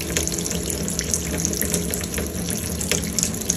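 Cold water runs steadily from a tap while a Glow-worm Easicom3 28c boiler is being commissioned, a continuous close hiss and splash at moderate loudness with no speech.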